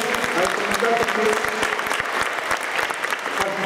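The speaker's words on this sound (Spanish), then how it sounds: "a ustedes jóvenes también le vamos a dar un aplauso a todos los compañeros de año" Lively applause at a science fair award ceremony, dense crowd clapping with sharp individual claps close by, continuous and energetic, with faint voices mixed in beneath.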